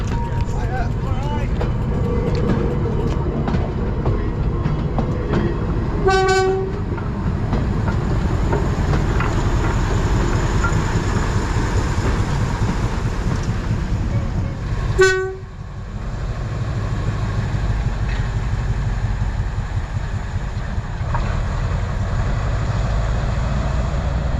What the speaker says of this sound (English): it was a works train and not a steam train